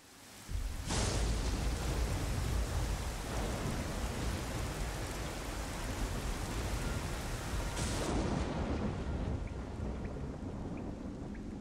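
Heavy rain pours steadily over a dark prison setting in the video game Nioh, while low thunder rumbles swell and fade beneath the constant hiss.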